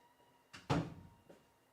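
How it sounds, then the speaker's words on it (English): A door swung shut nearby, a brief soft rustle followed by one solid thump, then a faint light click, indoors and otherwise quiet. "I can close the door"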